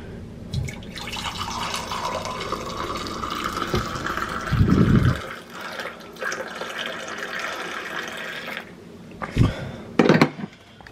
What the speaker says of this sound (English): It always bubbles like that when I pour it like that.